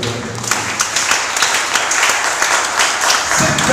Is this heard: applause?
yes